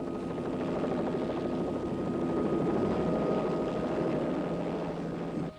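A helicopter parked out back drones with a steady, continuous rumbling engine and rotor hum, loud and unbroken throughout, with no one talking over it.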